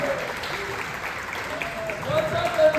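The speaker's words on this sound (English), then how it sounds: "Round of applause" Audience applause welcoming comedian Brady Willis at a comedy show, a steady wash of clapping from the crowd that swells near the end, with scattered cheering and voices mixed in.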